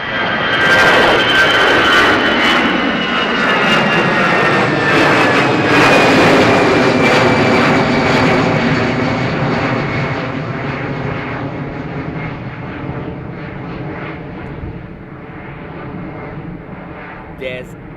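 An Air Transat Airbus A321neo bound for Toronto takes off from Dublin Airport with a loud, steady jet engine roar that slowly fades as it climbs away. A radio voice can be heard faintly underneath.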